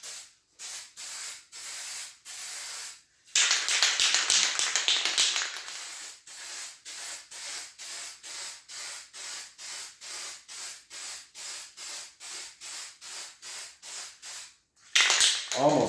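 Light coat of spray paint misted over exposed metal on a GT185 motorcycle part, heard as a long run of short hissing aerosol bursts in a steady rhythm, with a longer continuous spray near the start and another near the end, close and fairly loud.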